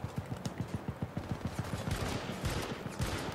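Rapid automatic gunfire in the Syndicate video game on Xbox, a quick, even stream of shots, fairly quiet and steady over a few seconds with no talk.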